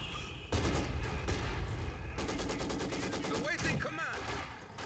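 Mortars and other weapons fire in the Company of Heroes 2 battle, with dense, rapid bursts of blasts and crackling gunfire filling most of the span, while voices talk over the din.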